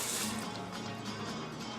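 Water runs steadily into a cooking pot holding rice, a continuous soft splashing pour that stays faint and even for the whole moment.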